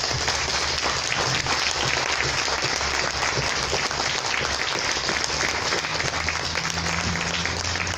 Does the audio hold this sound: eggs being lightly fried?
no